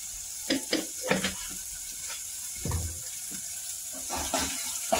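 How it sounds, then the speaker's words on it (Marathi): Thick-cut onions sautéing in a pan with salt, a steady sizzle under scattered stirring clatters and soft knocks of a spoon against the pan, close and moderately loud. "चांगला परतू देऊ आपण कांद्याला"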